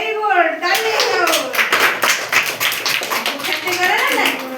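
A group of children clap their hands together in a preschool activity session, a burst of quick, close, uneven claps lasting several seconds, with a voice audible at the start.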